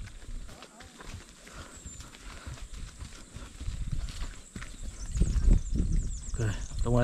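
A horse walks uphill on a mountain trail at Kurland Park near Plettenberg Bay, South Africa, hooves thudding close and irregularly beneath a rider's talk, growing heavier toward the end.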